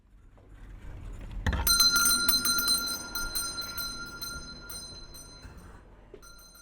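A shop door opens with a thud and sets off a bright door bell that jangles sharply, then rings on in fading repeated tones as the door closes, with faint high-street ambience throughout.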